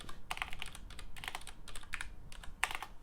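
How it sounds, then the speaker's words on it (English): Rapid typing on a computer keyboard during a game-engine programming session, bursts of clustered key clacks with short pauses, close and fairly quiet with no talking. "Typing troubles."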